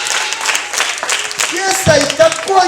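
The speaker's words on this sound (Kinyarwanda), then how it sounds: "Twongeye dukomere Imana amashyi." A church congregation applauds together in a sustained burst of clapping that mixes with voices and some singing or calling out, loud and close for the whole stretch.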